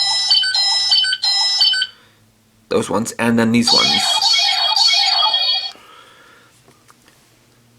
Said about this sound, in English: we can just test out the sounds of the buttons